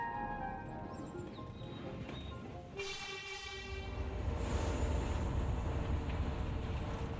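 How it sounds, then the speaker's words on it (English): A train in rural China pulls through a station, with a horn-like tonal blast, rumbling wheels and a rising mechanical roar, heard at moderate distance over low background activity. "The train only stops here for 2 minutes."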